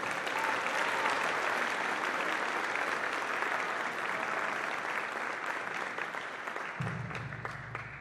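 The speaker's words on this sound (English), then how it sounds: "How about a round of applause for Todd?" Sustained audience applause at a high school pops concert, a dense, steady wash of clapping that fills the hall and continues at an even level throughout, with a low rumble entering near the end.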